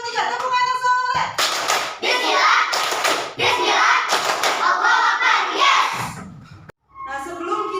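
Young pupils at an Islamic primary school clap out the tepuk anak soleh chant, bursts of rhythmic claps with group chanting, after a teacher's voice counts them in, with a short pause near the end.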